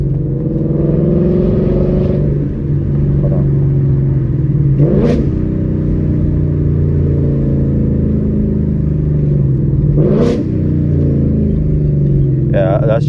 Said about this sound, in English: some crazy loud downshifts, as you guys will see right now in the next clips